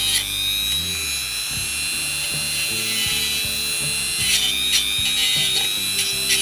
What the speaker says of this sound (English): Alright, Dremel's warmed up. Using our wire brush, we'll run over the top.